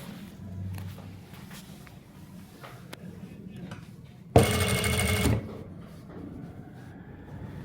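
A sewing machine stitches a trouser pocket in one short, loud burst of about a second, standing out from quiet handling and room noise before and after.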